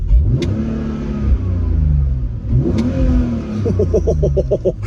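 An early-2000s German 3-litre six-cylinder convertible with a manual gearbox revs up and down repeatedly, rising and falling in pitch, ending in quick rhythmic blips of the throttle.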